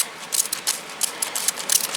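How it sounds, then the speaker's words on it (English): Small handheld spray bottle misting water over a tray of surface-sown pansy seeds, a run of short, crisp hissing bursts repeated quickly and up close. "I have my little spray bottle here, and I'm going to spray over the tops of these here, get this nice and moist"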